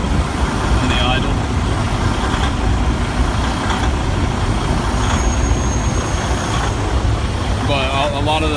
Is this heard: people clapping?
no